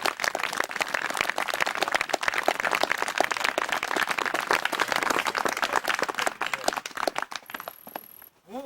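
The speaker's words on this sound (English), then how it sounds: "you folks give these guys a big round of applause," A crowd gathered at a Boy Scout trek campfire claps outdoors, a brisk, crackly patter of many hands that holds steady and then thins out near the end, where a faint high tone appears.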